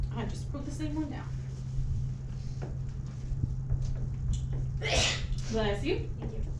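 A single sharp sneeze bursts out amid voices in a room, with a steady low hum underneath.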